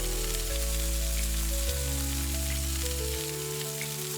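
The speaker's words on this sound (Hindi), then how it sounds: "रघु ने मछलियों को मसाले में मैरिनेट करने के बाद उन्हें तवे पर फ्राई करना शुरू कर दिया" Spice-marinated fish fries on a tawa griddle with a continuous hissing sizzle, partly covered by loud, sustained musical tones that shift pitch in steps, with no talking.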